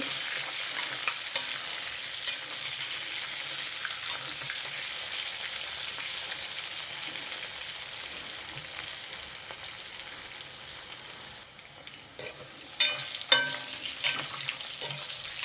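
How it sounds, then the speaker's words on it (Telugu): Bitter gourd pieces fry in a pan while being stirred, a steady sizzle broken by light ladle scrapes, with several sharper clinks and stirring knocks near the end, close up and without talk. "ఒకసారి కలుపుదాం కలుపుతానే వేయించుకోవాలండి ఇవి"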